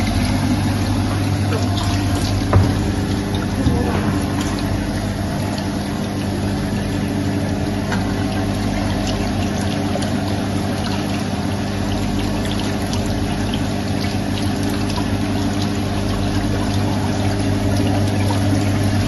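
A steady, unbroken rush of running water from a lab tap during an impact-of-jet experiment, fairly loud and constant throughout, with no talking.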